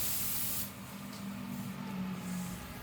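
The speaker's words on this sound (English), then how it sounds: "Now I'm spraying the mint green color on top because this is going to be a two-tone paint job." A spray gun lays mint green paint onto a Nissan 240SX car door panel for a two-tone job, giving a steady soft hiss that eases slightly after a moment, faint and close, with no talking.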